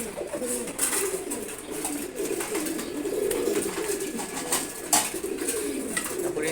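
A pair of Giribaj pigeons coos in a low, rolling murmur, joined by other birds in a loft, steady and fairly close throughout with a few sharper calls over the top.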